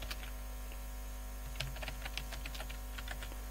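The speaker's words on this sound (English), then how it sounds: "for now let me just type" Typing on a computer keyboard while filling in an online account form: a steady run of quick, light clicks with a few louder keystrokes, close by over a low constant hum, with no talking.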